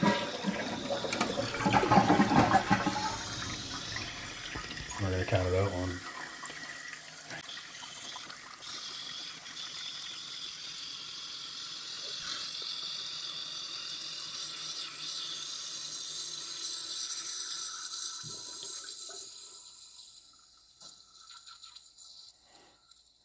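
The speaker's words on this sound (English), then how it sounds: "if I flush the toilet now" A Glacier Bay toilet flushes with a loud rushing gurgle for several seconds, then the tank refills with a steady, softer hiss of running water; a voice briefly counts aloud near the start.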